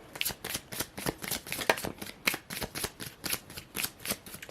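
Tarot cards are shuffled in steady, rhythmic bursts of papery flutter and slapping, close up and repeated throughout with little else audible.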